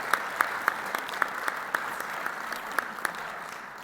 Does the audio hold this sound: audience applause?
yes